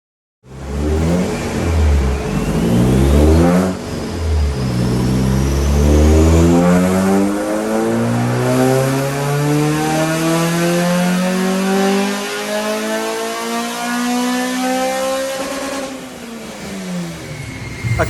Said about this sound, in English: Mr. Ellis, we made 213 brake horsepower on its initial power run.